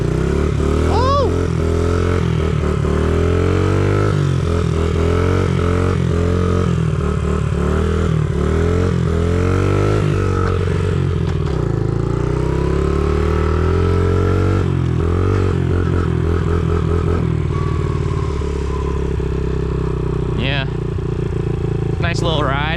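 A small dirt bike engine revs hard while riding, loud and close throughout, its pitch climbing and falling with throttle changes amid wind rush and rattling.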